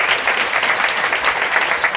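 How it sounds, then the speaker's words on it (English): Steady applause from a large audience at a Trenton mayoral candidate forum, honoring public servants; dense, continuous clapping that fills the whole moment with no voices over it. "Give these public servants a round of applause."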